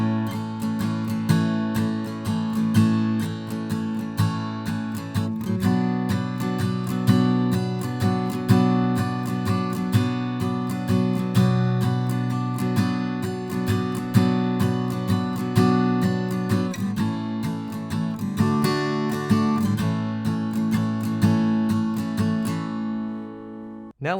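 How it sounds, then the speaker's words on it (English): Electric guitar played through a Boss Katana Air amp, strumming a song's chord progression in a steady, sustained rhythm of ringing chords, loud and close with no talking. "the actual progression sounds like this."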